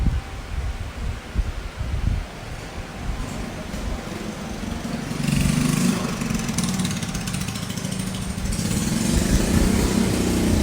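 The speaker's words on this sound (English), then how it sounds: "there's a motorcycle passing" A motorcycle engine drones past outdoors, growing louder and holding steady through the second half after a quieter, rustling start, with no speech heard.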